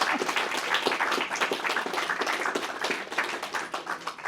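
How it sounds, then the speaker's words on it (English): Dense, steady applause from an audience at a historical talk about the Land Girls, many hands clapping together at an even level for several seconds without any voices on top. "We better give you a big round of applause."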